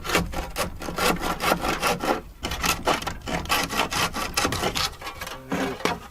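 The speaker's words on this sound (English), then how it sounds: "I have a lot more control with the handsaw for the finishing part" Handsaw cutting wood while finishing a window frame, a steady close rhythm of repeated push-pull strokes rasping through the timber, loud and continuous with no voices.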